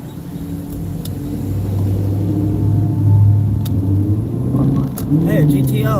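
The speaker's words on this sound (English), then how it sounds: "That's Hillary cars a GTO. Pontiac GTO. Those cars are actually pretty fast." Low, throaty rumble of a Pontiac GTO engine passing nearby, swelling in the middle and fading, with people talking over it.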